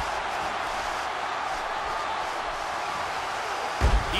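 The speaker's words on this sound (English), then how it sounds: "Would you listen to this crowd show their appreciation for these amazing competitors?" A large arena crowd in a wrestling video game roars in a steady, dense wash of cheering that holds at an even level throughout, with a brief thump near the end.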